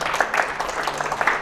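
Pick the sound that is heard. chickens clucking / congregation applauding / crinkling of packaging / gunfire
congregation applauding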